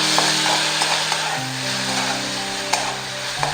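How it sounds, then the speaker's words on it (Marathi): Onion, capsicum and tomato fry together in a pan, a dense close sizzle over a low steady hum, with occasional clicks and scrapes of a spoon stirring, no voices. "आता हे सर्व भाज्या थोड्याशा अजून फ्राय करूया"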